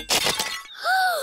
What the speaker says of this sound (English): Mr. Bull has smashed the teapot to pieces.